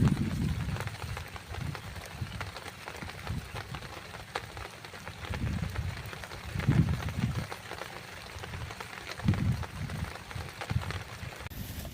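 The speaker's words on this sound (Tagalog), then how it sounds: "Mukhang palakas ang ulan na yun." Rain falling steadily outdoors in the rainy season, a dense hiss of drops with scattered louder patters and low rumbling thumps, holding fairly even throughout with no clear talk over it.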